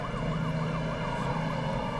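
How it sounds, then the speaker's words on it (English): A wailing emergency siren, apparently an ambulance, sweeps steadily up and down, loud and continuous with no pauses and no voices over it. "calls 911 for an ambulance"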